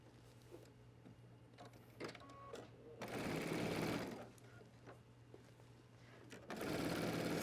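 A sewing machine stitches the circular portion of a men's waistcoat in two short bursts of rapid whirring, separated by quieter handling noises and a low hum in the room.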